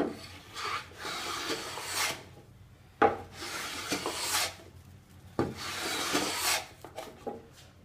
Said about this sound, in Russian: Хочу, чтобы было видно место с сучком и как рубанок, в общем-то, по нему идет без каких-либо вопросов.